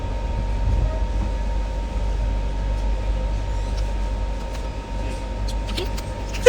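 Inside a moving passenger train on the way to Sikkim, a steady low rumble of wheels and carriage fills the space, with a few faint clicks and rattles on top and no one speaking.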